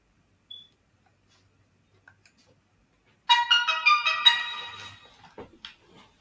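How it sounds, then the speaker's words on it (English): A mobile phone rings out with a bright, tonal ringtone melody of quick repeated notes, fairly loud and close, after a few faint ticks in near silence, then fading away. "That was my phone going on."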